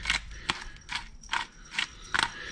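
Black pepper being freshly ground with a hand pepper grinder: six or so short, crisp ratcheting crunches in a steady rhythm, close and fairly quiet, with no voices.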